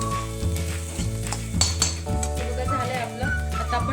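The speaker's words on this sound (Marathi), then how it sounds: "तर आता आपण मस्त त्याच्यामध्ये हे आळूवडी टाकणार आहोत" Steamed alu vadi pieces, colocasia-leaf rolls, tipped into a hot pan and stirred, with steady sizzling and metal utensil scrapes and clinks against the pan, close and continuous; a low musical tone runs underneath.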